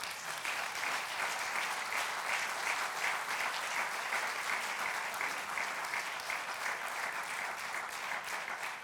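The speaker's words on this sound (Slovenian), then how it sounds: "Vas, draga publika, pa prosim za en velik aplavz" A big round of applause from the audience at a table tennis club's 70th anniversary ceremony, an even, sustained wash of clapping that holds steady throughout without voices.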